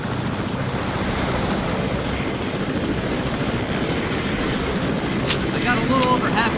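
A helicopter flies overhead in the zombie video game No More Room In Hell, a steady broadband rotor and engine rumble running throughout, with a few sharp game sounds near the end.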